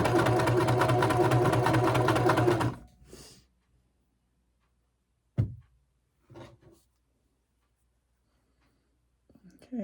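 A sewing machine runs steadily at close range, stitching log cabin quilt pieces, then stops after a few seconds and leaves scattered faint clicks and handling noises.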